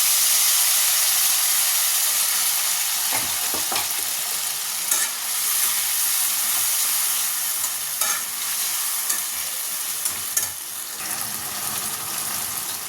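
A continuous loud sizzle of ground spice paste frying in a pan with fried potatoes, with occasional scraping strokes of a spoon stirring, no voices.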